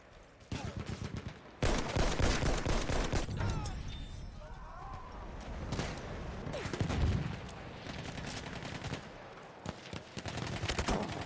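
Battlefield 1 multiplayer combat: rapid bursts of rifle and machine-gun fire crackle repeatedly at close and middle range, mixed with game battle noise and spoken voice lines under the shooting.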